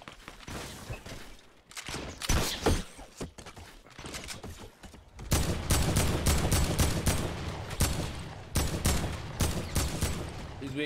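Fortnite gunfire crackles in rapid bursts, AK rifle shots rattling off in quick volleys with short gaps, growing denser and louder in the second half amid game effects.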